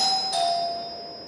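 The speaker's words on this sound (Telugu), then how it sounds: "కాలింగ్ బెల్ రింగ్ అవుతుంది" A doorbell rings once up close, a bright electronic chime that rings out and fades over about a second, heard alone with no voices.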